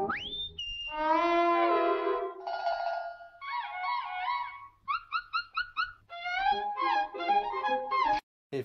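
A voice sings a playful melody, then imitates a cat with several short, high meows in a row before singing on.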